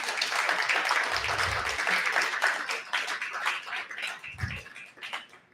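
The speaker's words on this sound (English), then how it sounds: "So round of applause for all the performers." An audience at a literary reading applauds the performers with steady, fairly close clapping that rises and thins over a few seconds.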